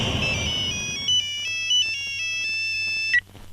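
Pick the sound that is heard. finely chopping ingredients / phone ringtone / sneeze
phone ringtone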